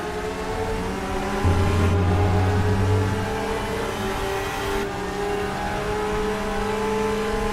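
Green Porsche DTM race cars roar past in the RaceRoom racing game at Lausitzring, a loud sustained engine drone with rising and shifting gear pitches. No voices can be heard.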